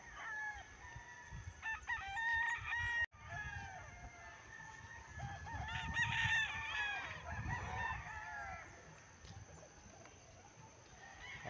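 Roosters crow over clucking chickens in a pen, several drawn-out cock-a-doodle-doos rising one after another, mid-distance and clear over a soft outdoor background.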